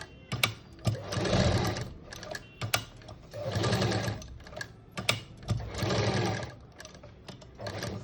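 A sewing machine stitches a cutwork blouse sleeve in rhythmic bursts of fast, whirring needle runs, separated by brief pauses with small clicks as the fabric is turned, close and fairly quiet.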